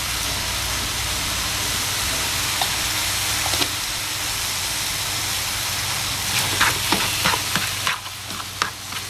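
Pork trotter stir-frying in a cast-iron pot with fish sauce and pepper, a steady sizzle with scraping stirs and clinks of the utensil growing busier toward the end.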